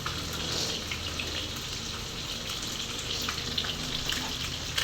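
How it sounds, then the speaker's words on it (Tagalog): Galunggong fish frying in spattering hot oil, a steady, moderately loud crackling sizzle with scattered sharp pops throughout, no one speaking. "Tumalsik yung mantika."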